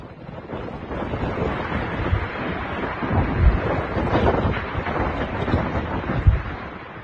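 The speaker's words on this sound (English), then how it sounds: "roared ashore in Southern Leyte with violent winds, torrential rain, and waves that swallowed coastlines whole" Typhoon on the coast of Southern Leyte in the Philippines: violent winds roaring and crashing waves in a dense, continuous wash of noise, with heavy low rumbling surges and gusts buffeting the microphone.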